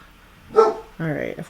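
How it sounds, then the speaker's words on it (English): Pet dogs bark in the background of a home manicure session: one sharp, near bark burst, then a voice speaking over the end. "my dogs are gonna start barking in the background"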